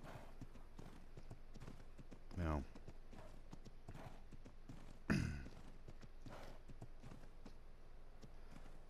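Horse hooves clip-clop steadily in the survival game Ark Ragnarok, a soft, quick run of light beats with two louder thuds, while someone talks briefly over them.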